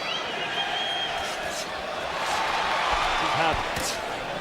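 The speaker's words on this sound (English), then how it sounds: "Listen to the vociferous crowd as well as Jacobs gets a good jab in" Vociferous boxing crowd at the Canelo Alvarez vs Daniel Jacobs fight, a dense steady roar of cheering that swells slightly toward the end, with a commentator talking over it.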